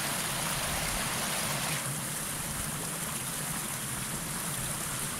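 A steady, broad rush of a stream flowing at a water crossing on the Appalachian Trail in New Jersey, close and continuous, with no voices.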